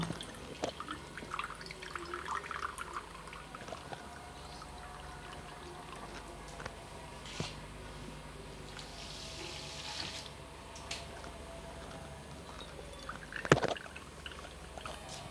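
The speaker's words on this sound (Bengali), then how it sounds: "সাথে আমি জলটাও অ্যাড করে নিচ্ছি দুই দুই বাটির মতো আমি জল দিয়ে দিব" Water is poured into a pot of sugar to make gulab jamun syrup, a soft, steady splashing and trickling with small drips, quiet and close, with no talking.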